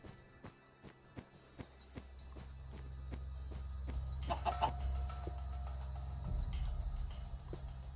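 Video game chickens cluck in short, quiet, evenly spaced bursts beneath a low rumbling background.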